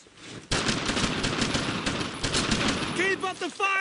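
Rapid, dense gunfire fills the game Brothers In Arms: Road To Hill 30, sustained loud bursts of rifle and machine-gun fire that stop abruptly near the end, with shouted voices over the battle.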